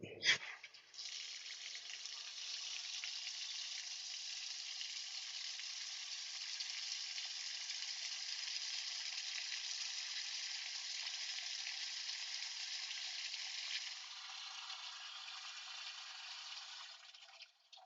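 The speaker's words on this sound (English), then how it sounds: "I'm going to start out by running some hot water" Hot water runs steadily from a tap into a slow-draining sink, a continuous hissing gush that starts abruptly and holds level for about fifteen seconds before easing slightly near the end, with no talking.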